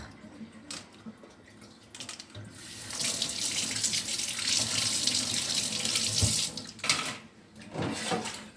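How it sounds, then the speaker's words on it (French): Dental cannulas are rinsed under a running tap, with water splashing steadily into a sink, clinks and knocks of instruments, and a brief quieter lull before the flow resumes. "Les canules sont rincées à part."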